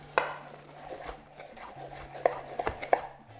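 A knife chops carrots on a cutting board for a butternut squash soup, with a few scattered sharp cuts that come close and clear, the loudest strikes bunched near the end, over a low steady hum.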